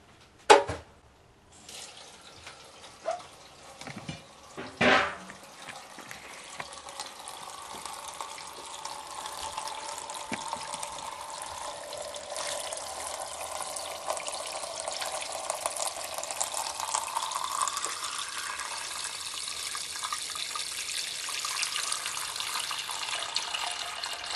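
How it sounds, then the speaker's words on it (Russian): Cold tap water runs steadily into a container holding mussels and rapa whelks, preceded by a few clanks and knocks; the gushing stream gradually builds and continues without pause. "Заливаем их холодной кранной водой."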